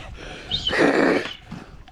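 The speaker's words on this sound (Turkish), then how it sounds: "Ya bu nasıl bir köpek ya?" A dog lets out a short, rough growl up close, rising and fading within a second.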